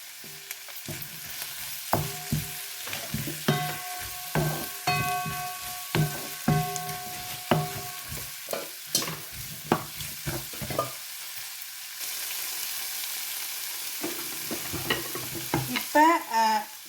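Red, green and yellow bell peppers sizzle and fry in a pan, with a series of sharp, rhythmic scraping stir strokes rising over a steady crackle, close and moderately loud, with no speech.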